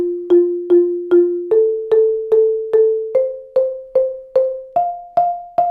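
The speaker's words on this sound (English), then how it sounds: "we're just playing arpeggio with alternated strokes" A keyboard plays a steady run of single plucked notes, about two per second, each with a sharp attack and quick decay, stepping gradually upward in pitch.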